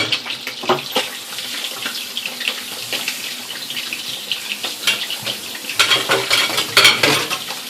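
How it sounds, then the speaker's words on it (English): Utensils are rinsed under a running kitchen tap while a red snapper meal is cooked, with steady loud water flow mixed with clinks and clatters of spoons and dishes, louder toward the end. "So we're going to rinse these up."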